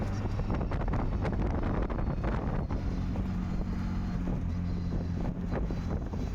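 Loud, steady wind buffeting the microphone throughout, a constant roar with a low engine-like hum underneath.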